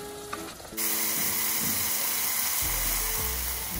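Arvi (taro root) and minced meat sizzling and frying in hot oil in a pan, a steady broadband hiss that switches on sharply and continues unbroken, with faint low clatter near the end.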